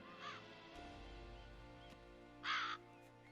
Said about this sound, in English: There are crows everywhere.